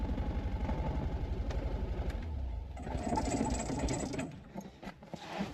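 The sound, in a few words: old car's four-cylinder engine idling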